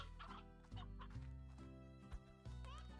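Chickens clucking in the Slime Rancher video game, several close, loud clucks and short calls in uneven bursts over a steady background.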